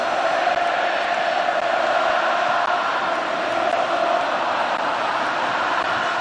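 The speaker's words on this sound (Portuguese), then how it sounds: "Torcida colombiana volta a se manifestar." Colombian football fans chanting in a packed Brazilian stadium at a 2014 World Cup match against Japan, a steady dense roar of many voices sustained throughout, loud and distant-sounding.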